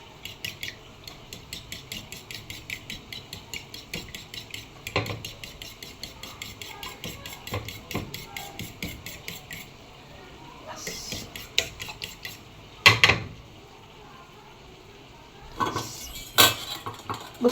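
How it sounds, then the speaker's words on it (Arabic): A fork beats three eggs in a bowl for shakshuka, quick rhythmic tapping and scraping against the dish, steady and close, with a few louder clanks of utensils near the end. "هحاول ان انا اقلبهم بالشوكه كده"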